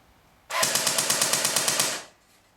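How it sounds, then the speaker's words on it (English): An AEG G39C electric airsoft rifle with a metal gearbox fires a single full-auto burst of about two seconds, a rapid even buzzing rattle of shots over the motor whine, close and loud. "Let's put it down to full auto."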